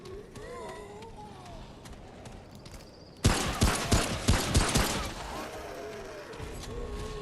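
Rapid bursts of video game gunfire erupt suddenly and loudly after a few seconds of quieter game ambience, a cluster of sharp shots that then tails off into background sound.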